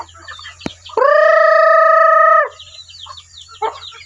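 On a farm, a rooster lets out a long, loud, sustained crow that cuts through quieter, scattered clucking of chickens nearby, with a sharp knock just before it.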